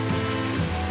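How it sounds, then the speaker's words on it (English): Peppers and tomatoes frying in a pan for a rice salad, a dense continuous sizzle and crackle, loud and close, with no voices. "So I'm frying the peppers and the tomatoes."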